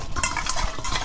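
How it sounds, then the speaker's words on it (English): Apples coated with sugar, cinnamon and nutmeg are stirred for an apple cake, making a short, close, continuous scraping and shuffling of fruit pieces. "then I give them a stir and I sprinkle some more."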